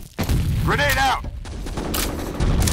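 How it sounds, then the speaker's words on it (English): In a video game, gunfire and a thudding grenade-style blast sound amid battle noise, while a voice calls out over the loud, continuous combat. "Grenade out."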